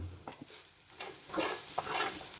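Cluster beans poriyal stirred and sautéed over a low flame, with a soft steady sizzle and intermittent scraping strokes of a spoon in the pan, fairly quiet and with no voices.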